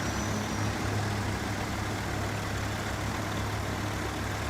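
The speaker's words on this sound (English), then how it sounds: "I'm really happy with the performance of this Kenworth" A Kenworth truck engine in the off-road driving game SnowRunner drones steadily at low pitch with a broad, constant rumble and no talking.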